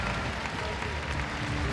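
A gymnastics arena crowd applauds after a balance beam routine at the Melbourne World Cup, with broad, steady clapping and murmuring throughout the brief moment, and commentary faintly under it.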